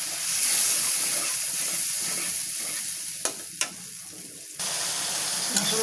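Spices fry in a pan for fish and potato curry, a continuous close sizzle with a couple of sharp clinks of a stirring utensil against the pan.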